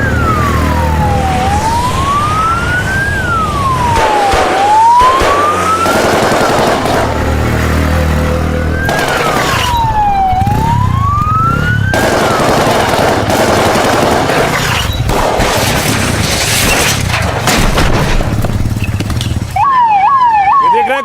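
An ambulance siren wails loudly at a police encounter scene in Ghaziabad, its rising and falling tone repeating over several cycles, ending in a faster yelp.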